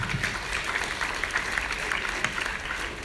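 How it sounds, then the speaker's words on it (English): An audience at a primary school annual day applauds competition winners with sustained, moderately loud clapping, a dense crackling patter with a faint crowd murmur beneath it. "Give them a big round of applause."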